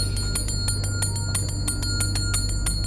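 A small magic bell rings in quick, evenly spaced strikes, forming a steady bright jingle throughout. A low continuous hum runs underneath, and no one speaks.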